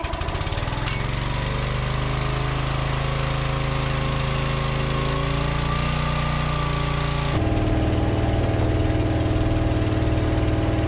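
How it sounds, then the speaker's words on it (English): A shop air compressor runs loud and steady, its motor drone and rapid pumping chatter filling the whole stretch, with a shift in pitch and texture near the end as the load changes. "I'm gonna go ahead and apologize for the air compressor noise in advance."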